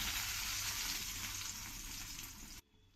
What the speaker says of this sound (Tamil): இதே மாதிரி எல்லாத்தையும் போட்டு ஃப்ரை பண்ணிக்கோங்க.